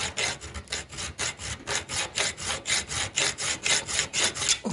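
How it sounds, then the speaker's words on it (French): A hand file rasps steadily back and forth across metal front-suspension parts from an old car, about three strokes per second, close and loud with no voices. "je vais les finir à la lime pour être bien plus précis."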